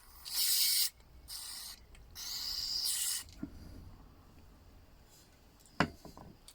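Several short bursts of hissing cleaner spray into a lawn mower, close and fairly quiet, followed by a few faint clicks and knocks.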